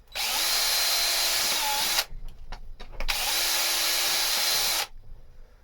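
A power drill whines at full speed for two long bursts, drilling out holes in boat locker hatches, with a short pause of clicks and handling noise between them.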